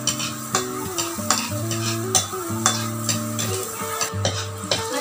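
Garlic sizzles in margarine in a pan, a steady frying crackle under rhythmic scraping stirs that repeat about every half second, close and moderately loud, with no voices.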